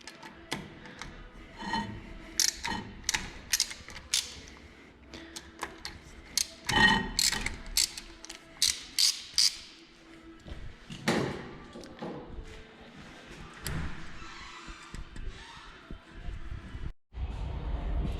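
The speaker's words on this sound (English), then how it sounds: "next I have to open these two bolts that hold the disc with Torx 40" A tool works Torx 40 bolts loose from a brake disc on a Renault Scenic, with scattered metallic clicks, taps and thuds of varying strength close by.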